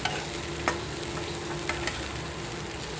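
Green peas (batani) sizzle steadily in a pan, and a spoon scrapes through them with a few light clicks. The sound is close and even, with no talking.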